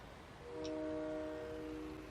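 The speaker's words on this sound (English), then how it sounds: "Hey, I hear you, train." Train horn in Farming Simulator 19, a faint distant chord of tones that swells in for a couple of seconds over quiet background ambience.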